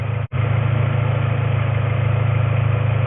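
A car engine idles steadily and close by with a low, even hum and a faint regular pulse, while the cooling fan stays off; there is one brief dropout near the start, then the idle continues unchanged.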